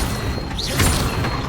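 Incendio fire spell cast in the video game Hogwarts Legacy: a short whooshing blast with a low boom swelling mid-way, set against continuous game ambience and music.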